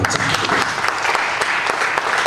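A church congregation applauds steadily, dense clapping from many hands filling the whole moment, loud and continuous.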